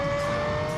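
Lexus LFA with its 4.8-litre V10 engine, a steady high-pitched engine whine holding a sustained tone for under a second, loud and close with no talk.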